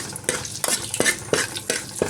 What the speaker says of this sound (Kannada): ಈಗ ಬೆಳ್ಳುಳ್ಳಿನ ಚೆನ್ನಾಗಿ ಫ್ರೈ ಆಗೋವರೆಗೂ ಮಾಡ್ತೀನಿ.